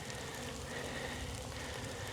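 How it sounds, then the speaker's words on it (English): Steady soft hiss of light rain falling on surfaces, continuous and even, with no voices. "If this rain stays at a drizzle, I'm fine."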